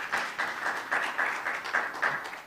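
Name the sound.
conference audience applause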